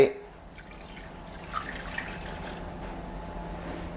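Fresh-squeezed pandan juice pours into a pan holding tapioca starch, mung bean flour and sugar, a soft continuous liquid trickle close by after a brief knock at the start.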